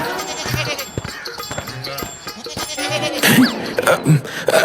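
A goat bleats several times in short, wavering calls, close by, with a few brief scuffling and rustling noises between the cries.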